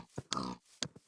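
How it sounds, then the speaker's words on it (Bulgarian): Pigs in the Minecraft survival game grunt in short separate bursts, two or three brief snorts near and moderately loud with quiet gaps between. "Мале, колко много прасета."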